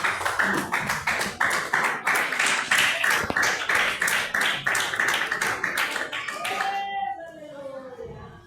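A church congregation claps hands in praise in a steady rhythmic beat, loud and close, before the clapping stops and a sustained tone fades out.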